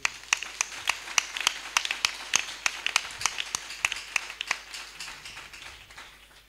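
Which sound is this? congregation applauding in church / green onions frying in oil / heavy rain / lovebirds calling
congregation applauding in church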